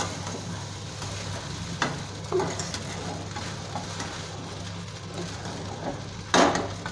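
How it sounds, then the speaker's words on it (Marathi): Sabudana khichdi with peanut powder being stirred in a pan, a steady soft sizzle with scraping spoon strokes and a couple of louder clatters, no talking. "आता हे चांगलं हलवून घ्यायचं"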